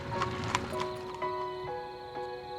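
Hooves of a donkey pulling a cart, a short run of clip-clop steps with a faint jingle that trails off after a couple of seconds.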